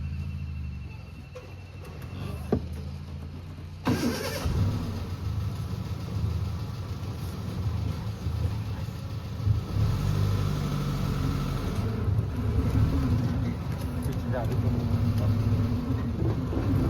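A jungle safari vehicle in Melghat's Kolkas forest idles with a low, steady engine rumble, picking up a fuller throb after a sharp knock a few seconds in and holding that level to the end.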